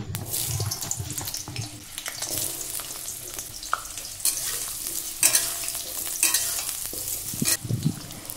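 Cut potato pieces fry in hot mustard oil in a kadai, a close, busy sizzle with bursts of stirring scrapes and clatter throughout, no voices.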